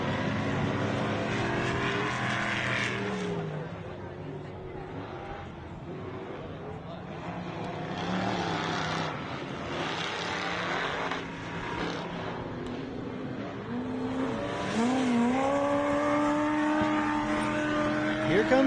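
Off-road race vehicle driving past on a short course track during the MetalCloak Stampede, its engine droning steadily and rising in pitch near the end, loud and continuous with a commentator talking over it.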